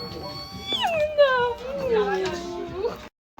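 A cat gives one long, drawn-out descending meow, close and fairly clear, with faint background noise around it.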